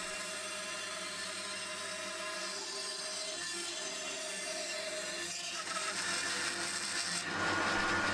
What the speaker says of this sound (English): I used the bandsaw to cut one of the side panels to shape